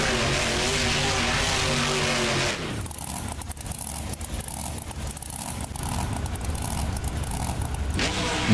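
A monster truck engine in the BeamNG Drive video game at Bristol Motor Speedway, a loud steady engine drone that drops in pitch then holds a rough rumbling tone, continuous throughout.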